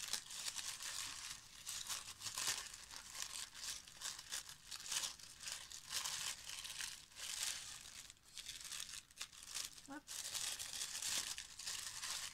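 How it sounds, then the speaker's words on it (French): Gift wrapping paper is carefully unwrapped and crumpled, giving continuous close crinkling and rustling with a few sharper tears, while a person talks over it throughout. "j'essaye de pas trop abîmer ton papier parce qu'il est joli aussi le papier"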